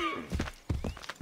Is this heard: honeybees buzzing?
no